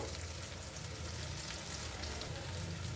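Spices and ginger paste frying in a pan give a quiet, even sizzle with a steady crackle throughout and no pauses.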